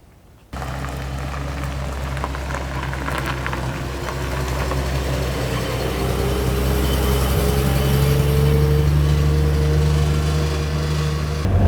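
The engine of a 1937 Mercedes 320 Special Roadster starts and runs, settling into a loud, steady idle hum that swells slightly partway through, close by and without talk.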